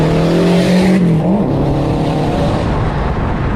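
A Subaru Impreza GDB with a boxer engine rumbles loud and close, a steady low growling drone with a brief pitch bump as the revs shift slightly, over constant road-like noise.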